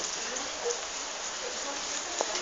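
Heavy rain pours steadily on surfaces, a dense continuous hiss with occasional sharper drops, filling the scene at an outdoor gathering.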